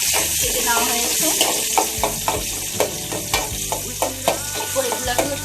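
Chopped garlic and a small cut tomato frying in a pan, a loud continuous sizzle with regular scraping strokes of a spatula stirring, close up.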